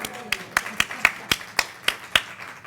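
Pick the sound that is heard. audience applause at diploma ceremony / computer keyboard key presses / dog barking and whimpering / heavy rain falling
audience applause at diploma ceremony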